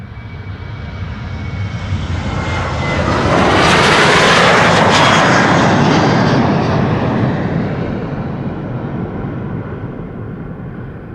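A Boeing 737-800, registration PH-BXY, passing at Amsterdam Schiphol: a loud jet roar that swells to a peak midway and then slowly fades, heard alone without voices.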